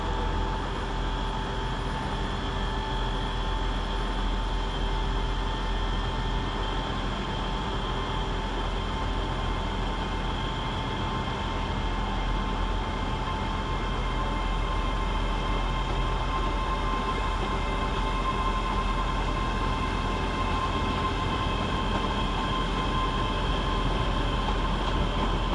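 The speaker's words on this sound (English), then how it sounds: "Next train out for departure is 385120 and 385117, with the 1645 Scotrail Express service to Edinburgh Waverley via Falkirk High" Scotrail class 385 electric units 385120 and 385117 depart Glasgow Queen Street on the Express service to Edinburgh Waverley, a continuous even hum with steady whining tones holding for the whole stretch and no talk.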